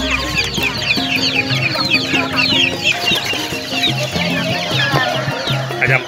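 Free-range village chickens cluck and chatter densely at a busy traditional market in Sumpiuh, Banyumas, a loud, continuous overlapping flock with no talk rising above it.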